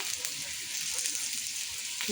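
Taro root fries steadily in a pan, a continuous hissing sizzle at even loudness throughout, with a soft clink near the end.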